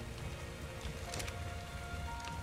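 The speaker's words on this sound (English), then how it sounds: "We've got rain" Steady rain falling in the video game Ark: Survival Evolved on a beach, a constant soft hiss of drops without pause, fairly quiet and even throughout.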